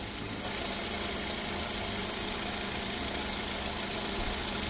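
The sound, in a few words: Hyundai Accent 2017 engine idling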